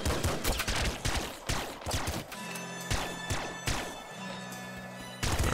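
Shotgun blasts in Nuclear Throne, sharp loud booming shots at irregular intervals with crashing impacts between, over a steady game music drone.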